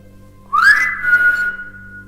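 A single human whistle swoops upward and then holds a steady tone, loud and close, trailing off with a noticeable echoing reverb.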